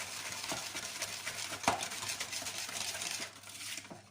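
Clafoutis batter with raspberries is mixed in a bowl, a quiet close run of soft swishing strokes with a few light utensil taps, one sharper clink near the middle.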